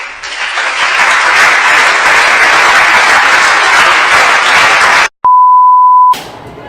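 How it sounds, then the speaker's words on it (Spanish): Steady applause from a crowd fills about five seconds before cutting abruptly to a single sustained electronic beep tone, followed by silence and a brief return of noise. "Empezar con un aplauso."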